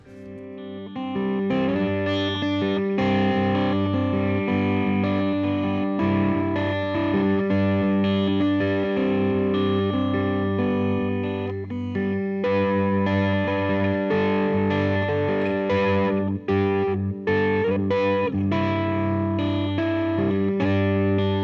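A Fender Custom Shop '51 Telecaster in Journeyman finish, tuned to an alternate tuning, plays bright, driven, loose chord riffs, loud and continuous with no voices.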